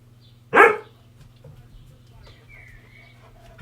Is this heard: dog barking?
yes